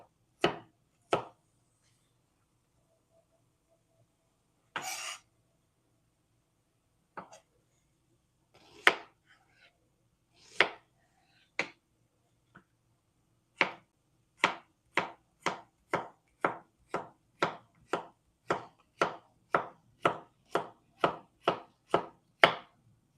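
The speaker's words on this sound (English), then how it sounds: "Everyone dices their onions differently." A knife dices onion on a cutting board, starting with a few scattered chops and pauses, then breaking into a fast, even run of about seventeen crisp close taps.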